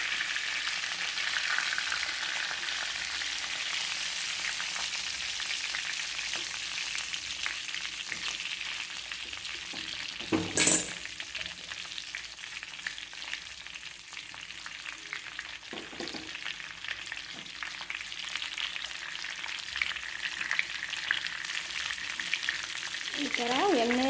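Stuffed green tomatoes frying one by one in hot oil in a pan: a steady, close sizzle that holds throughout, broken by a sharp clatter around the middle and a few small pops and stirring sounds, with light talk faintly underneath.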